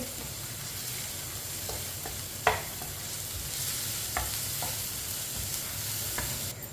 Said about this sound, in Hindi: लहसुन को 2 मिनट के लिए पका लेंगे।